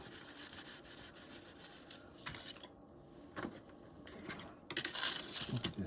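Gentle rubbing on a polymer clay veneer for a wavy blade cuff: quiet, scratchy strokes that come and go in short passes, a little louder toward the end, with no talk.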